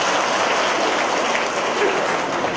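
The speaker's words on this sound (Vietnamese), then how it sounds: "chúng ta vỗ một tràng pháo tay thật lớn" An audience at a sermon on Divine Mercy bursts into a big round of applause, a loud, dense, continuous wash of clapping that fills the whole stretch without pause.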